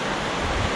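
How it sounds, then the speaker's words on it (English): Ocean surf on an island coast, a broad steady roar of crashing waves heard alone, loud and unbroken with a deep rumble underneath. "Waves crashing."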